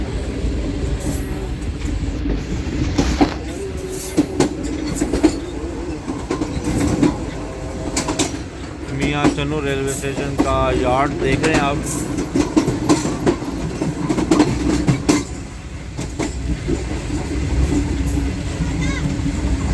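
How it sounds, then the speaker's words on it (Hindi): A train clatters through the Mian Channu railway station yard, changing tracks and lines with a steady clickety-clack of wheels and rail joints, while someone narrates over it. "रेलवे ट्रैक बदलते हुए, लाइनें बदलते हुए ट्रेन अपने मंजिल मकसूद की तरफ जा रही है जी।"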